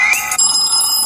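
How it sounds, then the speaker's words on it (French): Retro-style ringtone playing on a Blackview Alife S1 smartphone: a bright, loud electronic bell-like ring with a short burst followed by a sustained tone, close and alone. "C'est fait très rétro sur un téléphone moderne"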